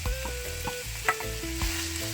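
Vegetables frying in a pan for chicken fried rice, a steady close sizzle with rhythmic stirring scrapes and clinks of the utensil against the pan, no talking.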